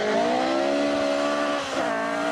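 A Ford Escort rally car races on a gravel rally stage, its engine revving loud in a high, sustained whine with a brief dip as it shifts, then pulling again, passing close by.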